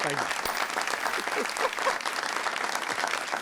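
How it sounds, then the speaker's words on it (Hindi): Studio audience applauding a guest on a Pakistani television talk show, dense sustained clapping throughout, loud and close, with a voice speaking over it. "सर के लिए तालियां"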